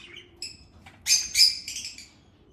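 Pet budgies trade chirps and squawky calls back and forth, a few thin tweets early and then a louder burst of overlapping chatter in the middle, close by over a soft, steady background hum.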